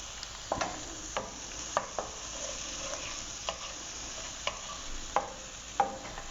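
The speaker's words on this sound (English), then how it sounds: "So you want to stir it constantly because you don't want it to burn while it sautés." Onions sautéing on a powerful gas stove, a steady sizzle with regular scraping stirs every half second or so, close and fairly quiet, no voices.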